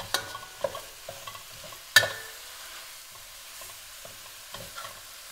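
Ground beef stir-fries in a pan over medium-high heat with aromatics for Thai holy basil beef, heard as a soft sizzle with scattered spatula taps and one sharp clack, close by and no voices.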